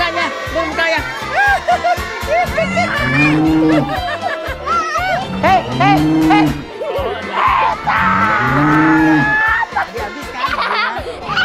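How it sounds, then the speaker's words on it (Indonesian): Cows on a farm moo in long, loud calls that rise and fall several times, mixed with children chattering and laughing nearby. "Ayo, minum yang banyak ya sapi-sapi lucuku."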